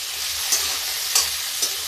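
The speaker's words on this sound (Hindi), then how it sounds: "थोड़ा सा इसको फ्राई कर लेते हैं।" Potato and cauliflower fry in a pan for a village-style aloo gobhi, a steady close hiss of sizzling oil broken by three soft scrapes of stirring.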